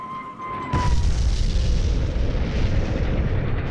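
A bomb from a diving naval dive bomber bursts in a single deep, loud boom, its rumble rolling on and filling the remaining seconds after a brief quieter lead-in.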